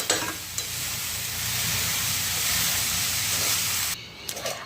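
Chopped safflower greens, cooked dry, fry in a pan with a strong, hissing sizzle and constant stirring for about four seconds before it abruptly quiets.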